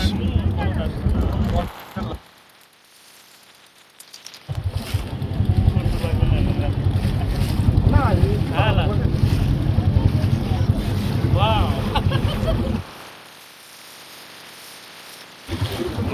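A passenger boat's engine drones steadily on open water near floating villages, with wind buffeting the microphone and people talking over the hum, which drops away briefly twice.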